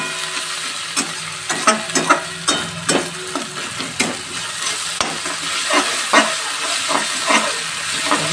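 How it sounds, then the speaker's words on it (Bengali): Spice masala frying in a pan while being stirred firmly, with a continuous loud sizzle and steamy hiss broken by repeated scraping strokes of the spoon in an uneven rhythm. "ভালো করে নাড়িয়ে নিচ্ছি।"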